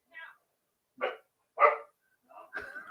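A dog frightened by fireworks lets out several short, scattered barks and yips, fairly faint and well spaced, with no other sound between them.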